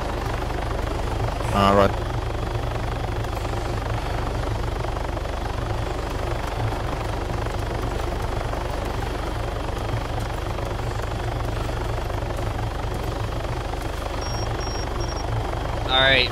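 A helicopter in the ArmA 3 video game drones steadily throughout with a constant low rotor and engine roar, while players talk briefly over it.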